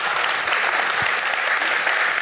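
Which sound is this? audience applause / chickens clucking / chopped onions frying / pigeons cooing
audience applause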